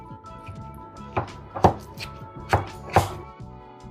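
Leftover mince pies being mashed in a bowl for brownie batter, giving a handful of soft, dull thuds and squelches spaced irregularly, fairly close and moderately loud with no voices.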